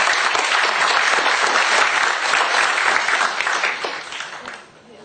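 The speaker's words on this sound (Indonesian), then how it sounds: "Beri tepuk tangan dong." Audience applause fills a room with dense, steady clapping at a loud, even level, then thins and fades toward the end.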